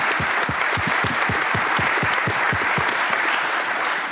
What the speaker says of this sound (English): So let's give Jen a round of applause